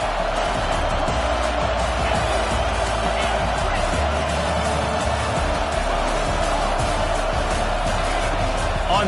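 A stadium crowd roars steadily during a Miami vs Georgia college football game, its dense continuous noise filling the whole stretch behind a goal-to-go defensive stand, with a commentator's voice faintly underneath.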